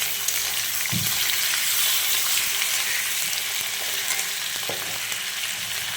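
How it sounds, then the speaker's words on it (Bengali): Dried fish fries in a pan with a steady, close hissing sizzle, broken by a few soft stirring knocks and scrapes. "মাছটা একটুখানি ভাজা হবে তারপর দেবো টমেটোটা"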